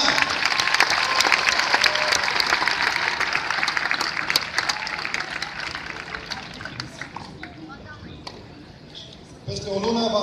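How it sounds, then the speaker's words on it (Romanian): Crowd applause for a tennis player at the 2017 WTA Bucharest Open, a loud sustained clapping that slowly thins and fades toward the end, with a few whistles and voices mixed in. "Aplauze, vă rog"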